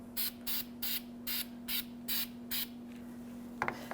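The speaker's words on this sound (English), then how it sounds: "Take my high temp, spray that hub." Seven short, evenly spaced bursts of copper high-temperature anti-seize spray hit a bare wheel hub on a 2017–2022 Honda CR-V during a front brake job, close and crisp over a steady low hum, followed by a faint clunk.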